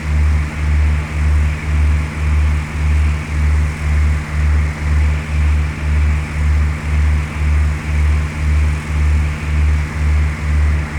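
Airplane engine in a flight simulator game, a steady low droning hum with a regular pulsing throb, continuous and fairly loud, no talking.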